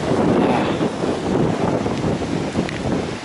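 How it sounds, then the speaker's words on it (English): Strong gusty coastal wind near a partial gale buffets the microphone on a walk along the Torre del Aguilo coast, a loud continuous roar that swells and eases in gusts. "more or less blowing a partial gale. It comes in gusts."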